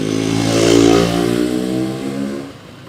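A 1968 Yamaha DT1 250 motorcycle engine revs loudly up close, a raspy mid-pitched drone swelling around the first second and easing back before dropping slightly near the end, with no talking.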